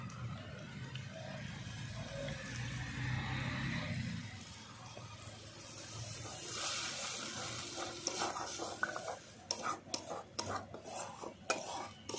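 Beaten sour yogurt poured into spiced masala frying in a pan for an eggplant curry: steady sizzling and frying with stirring and occasional clinks of a spoon against the pan.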